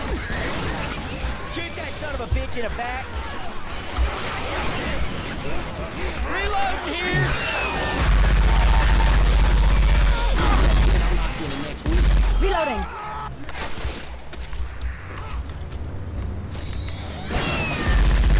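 Rapid bursts of gunfire and explosions from a video game, with excited voices talking over the shooting throughout.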